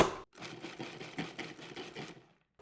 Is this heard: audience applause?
no